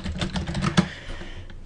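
Quick clicking keystrokes on a computer keyboard, a short run of close, crisp taps with one louder key press near the end.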